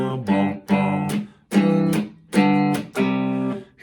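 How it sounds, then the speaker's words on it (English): An electric guitar plays a pinky shuffle pattern, with repeated rhythmic chord stabs in a steady bouncing groove, loud and close with no voice. "Now we're using our pinky to do a little shuffle here"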